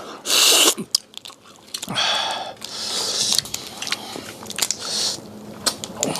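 Close eating and shell-cracking of spicy blue lobster: crunchy bites, chewing and crackling shell being peeled, in irregular bursts with short pauses, no talking.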